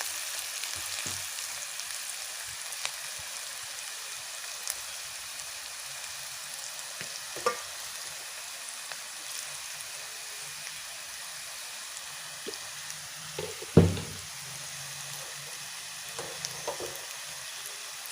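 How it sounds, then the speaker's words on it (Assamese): Jackfruit seeds fry in a pan with a faint, steady sizzle, broken by a few soft clicks and scrapes as they are stirred now and then. "এয়া অকমান মাজে মাজে লৰাই দিব"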